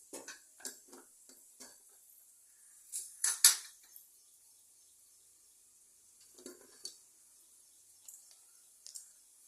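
Spoonfuls of tempering seeds tipped into a pan, heard as a series of light clicks and scattering rattles, with a louder clatter near the middle and a few sparse ticks afterward, close and fairly quiet.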